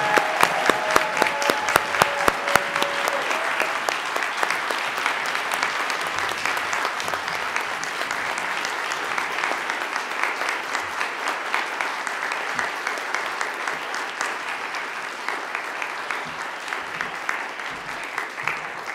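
An audience applauds keynote speaker Dr. Sandy Grande at the ASHE 2021 conference. A few sharp, distinct claps at the start swell into sustained, even clapping from a large crowd that continues steadily throughout.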